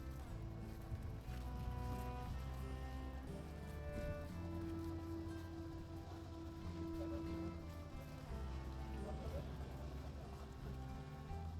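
A tour boat pulls up at the pier on Phi Phi Island: a steady, low engine drone and hull rumble run the whole time, with faint voices in the background.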